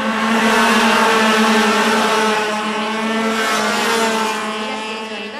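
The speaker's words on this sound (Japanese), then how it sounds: "まもなく先頭が最終コーナーから立ち上がって戻ってまいりました" FS-125 racing karts accelerating out of the final corner at a regional kart championship race: a loud, high-pitched two-stroke engine whine from several karts together, sustained and close, easing slightly toward the end.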